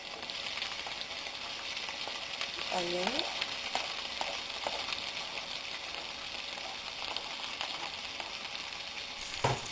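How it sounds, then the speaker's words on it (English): Onions and red chilies frying in hot oil with popped mustard seeds, a steady broadband sizzle running throughout with a few faint stirring clinks, close and moderately loud, no talking. "Saute the onions until they are slightly brown."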